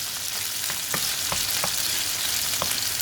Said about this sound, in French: Que vous entendez de nouveau ce petit frémissement. Avec les oignons